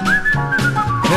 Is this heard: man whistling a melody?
yes